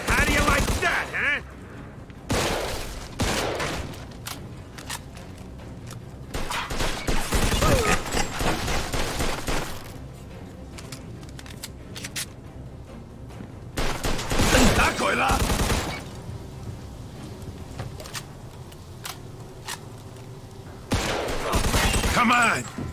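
Loud bursts of gunfire in Mafia 2, several volleys of rapid shots separated by quieter gaps, close and intense across the stretch.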